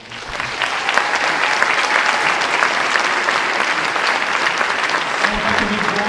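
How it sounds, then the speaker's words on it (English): Warm audience applause at a school awards night, many hands clapping in a full, sustained wash that holds steady and loud throughout, with no talk over it. "So, quick round of applause for them."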